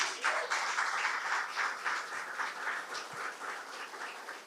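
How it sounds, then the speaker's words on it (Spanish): Strong, sustained applause from a church congregation fills the space after a sermon, dense and steady clapping from start to finish with no voices. "Dale un fuerte aplauso a Dios."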